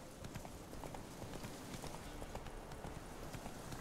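A horse gallops in The Witcher 3, steady rapid clip-clop hoofbeats running continuously at moderate volume with no voices over them.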